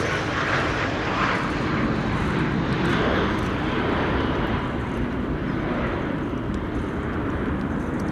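A Lufthansa Airbus A319 arriving at Amsterdam Schiphol on a windy day gives a constant jet engine rumble with wind noise, loud and unbroken, no talk over it.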